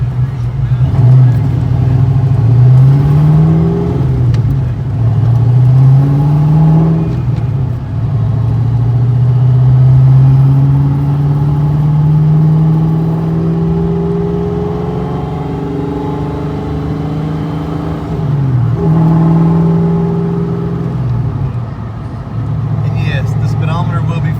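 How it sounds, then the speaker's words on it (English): A car with makeshift wheel alignment drives along, its engine drone rising and falling in pitch over time, with a person talking steadily over the cabin noise. "Even with our makeshift alignment, she's driving straight."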